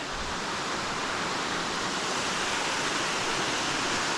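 A waterfall on a secret hiking trail roars as a steady, loud, broadband rush of falling water, continuous and unbroken with no voices.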